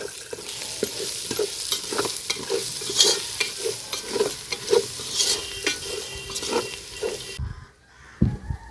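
A spoon stirs paneer pulao ingredients with turmeric in a sizzling pan, producing rhythmic scraping strokes about twice a second over a constant fry sizzle, close and fairly loud, ending with a brief knock after the sizzle drops away.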